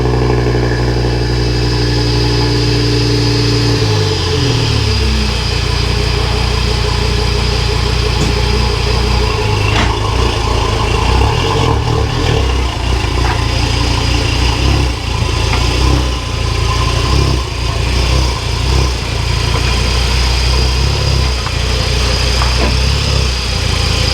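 Audi TT RS engine driving on a road, a loud continuous drone whose pitch sweeps and shifts early on before settling into a steady run.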